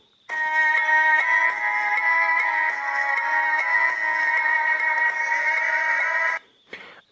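A Sony Ericsson W550i phone plays a ringtone through its loudspeaker with the megabass equalizer on, a loud bright synthetic melody of sustained stepped tones lasting about six seconds before stopping, followed by a brief handling noise.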